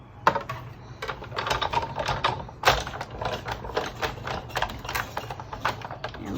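A paper card tag is fed through a tabletop embossing machine, giving a close, rapid run of small clicking and ratcheting taps that goes on steadily with a few louder knocks.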